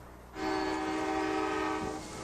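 A freight train horn sounds in a small town, a loud sustained multi-tone blast that starts abruptly and holds steady for about two seconds before easing off.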